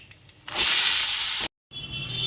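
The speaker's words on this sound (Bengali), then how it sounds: "এবার আলুটাকে ভাজতে দিয়ে দিই" Potatoes dropped into hot oil already seasoned with black cumin and a dry chilli, setting off a loud, sudden steady hiss that stops abruptly, then a quieter bubbling sizzle resumes.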